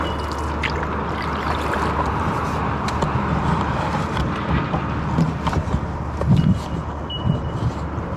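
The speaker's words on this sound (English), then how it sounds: "motorway which has afforded us some background noise for part of our paddle" Continuous motorway traffic drones beside a river, a broad steady rumble with passing vehicles swelling now and then, heard from a canoe with faint water sounds close by.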